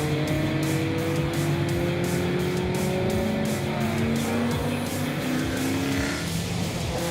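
Racing cars running nose to tail downhill into a corner at the Kyalami circuit, a steady loud engine drone with rising and falling revs and faint tyre noise throughout, no voices.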